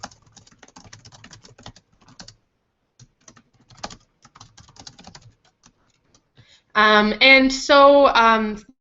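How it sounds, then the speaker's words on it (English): Light, irregular clicks of typing on a computer keyboard in short bursts, quiet and close, followed by someone speaking at the end. "then I can just start typing"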